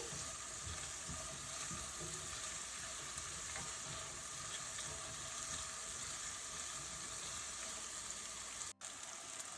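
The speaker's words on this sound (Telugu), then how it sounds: "ఉల్లిపాయ బాగా ఫ్రై అయ్యే వరకు వేయించుకోవాలండి." Sliced onions fry in a pan for an Andhra-style dish, making a continuous close hiss and sizzle with faint stirring scrapes and a momentary dropout near the end, with no voices.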